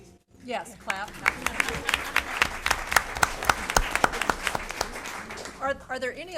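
An audience at a Champaign Schools Board of Education meeting breaks into applause: a burst of many hands clapping close by, steady and bright for several seconds before it thins out at the end.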